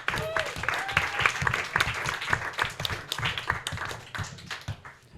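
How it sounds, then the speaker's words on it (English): A comedy roast battle crowd in New York claps for a comedian being introduced. The applause is dense and steady, quite close, with some cheering and voices mixed in throughout. "please clap it up"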